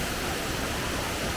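Steady, dense roar of falling water, loud and unbroken, from La Chorrera waterfall in Colombia, 590 metres tall, close by.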